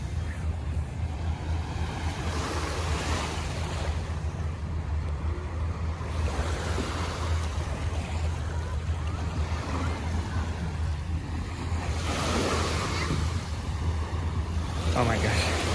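Ocean waves at low tide on a Vietnamese beach wash in with a steady broad surf roar and gusty wind noise, swelling every few seconds.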